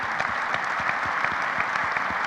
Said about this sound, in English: Let's have a nice round of applause for them.